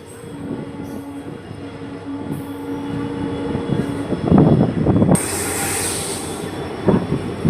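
A passenger train rumbles along the line across Pamban Bridge near Rameswaram island, heard from inside with steady rolling noise, a louder clattering stretch midway and a rush of higher hiss toward the end.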